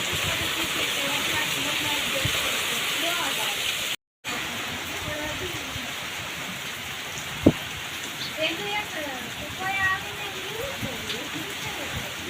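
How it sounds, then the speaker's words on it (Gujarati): Heavy rain falls in the hills with a dense, steady hiss. Voices talk faintly underneath, and a single sharp knock sounds partway through. "પાણી કાઢી દીધા એટલો વરસાદ છે ડુંગરામાં."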